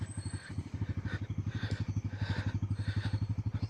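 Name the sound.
motorcycle being ridden down a rough hill road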